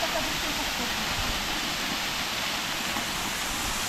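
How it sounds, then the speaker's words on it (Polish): A steady, rushing roar of a waterfall beside a reservoir in Istebna, Poland, fills the air, continuous and even throughout. "a po prawej taki ładny wodospad"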